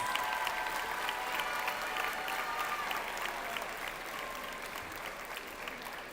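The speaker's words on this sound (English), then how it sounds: "give the people who helped you to get here the biggest round of applause you can ever give in your life" A crowd at a high school commencement applauds graduates' supporters, dense sustained clapping at moderate distance that fades slightly toward the end.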